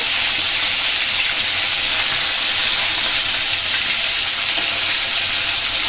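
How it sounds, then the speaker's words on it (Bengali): Bhola fish fries in a pan, giving a continuous loud, hissing sizzle that holds steady from start to finish, close up and with no voices. "মাছটা আর একটু ভালোভাবে ভাজা হোক"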